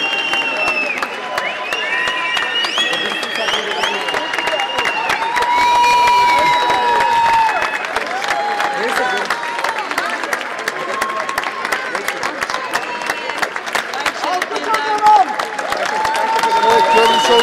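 A large crowd claps and cheers continuously, welcoming an Austrian military search and rescue team with rescue dogs, with children's shouts and chatter mixed throughout, lively and sustained for the whole stretch.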